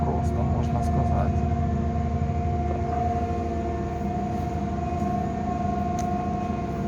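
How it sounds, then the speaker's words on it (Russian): A diesel train departs Cherkasy station, heard from on board as a steady loud engine drone with a sustained tonal whine over rumbling wheels. "Посмотрите, какой дизель-поезд. Вот. Идем на взлет с Черкас."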